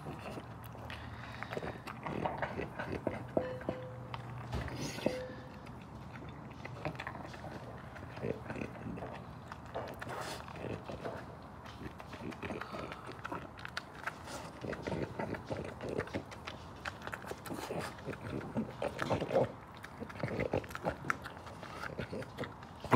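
A French bulldog eats from a bowl, giving repeated close chewing, crunching and snuffling noises over about twenty seconds with steady irregular rhythm and background room noise.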